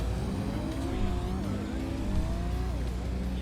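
Volkswagen camper van, the classic VW bus, driving in a PlayStation video game, its engine droning steadily with pitch rising and falling through gear changes, fairly loud and continuous with no talk.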